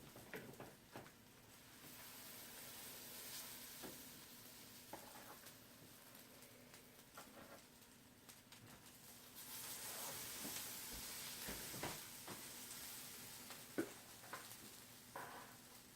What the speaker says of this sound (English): Now, you hear that sizzle? Because I already had the fire on it to medium.